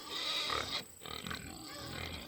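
Small pigs grunting close by in short, overlapping snorts at a fair swine show, with a brief lull partway through and steady barnyard background noise.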